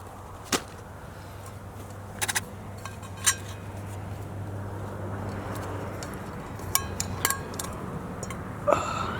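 A spoon clinks against camp dishes at an outdoor bushcraft camp while a meal of rice, beans and pork is readied: sparse, sharp metallic taps scattered over a quiet background with a low steady hum, a few clustered together near the end.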